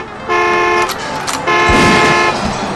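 A car alarm blares a loud, steady electronic horn tone close by. The tone breaks off briefly, then starts again, with no voices over it.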